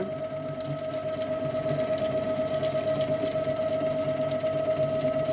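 An All Cook kitchen robot whips egg whites for a dacquoise at speed 8, giving a steady, fairly loud motor hum with a sustained whine that holds evenly throughout.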